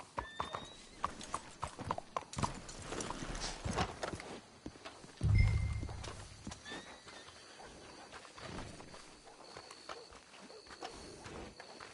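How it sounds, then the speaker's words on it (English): Horses' hooves clip-clop along at a walking pace, with a whinny partway through and other faint game sounds in the background. "Let's hitch the horses up ahead."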